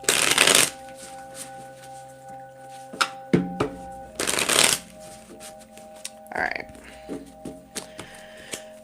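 Tarot cards are shuffled close by in two quick riffling bursts, followed by lighter taps and shuffles of a triple deck.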